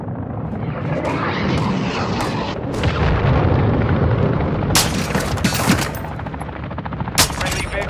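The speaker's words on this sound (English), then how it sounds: "Friendly cruise missile inbound." Call of Duty MW2 combat with heavy rapid gunfire and booming explosions from an incoming cruise missile strike, a dense, loud barrage with sharp bursts throughout and no speech.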